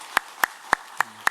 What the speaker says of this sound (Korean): 우리 구 집사님 다시 한번 우리 위로와 사랑의 박수로 격려하도록 하겠습니다